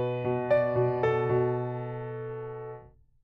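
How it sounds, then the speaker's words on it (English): Piano notes struck in an even, quick pulse, several repeated hits close together, then the chord rings and fades out. "Here's how the 8th note rhythm is going to sound."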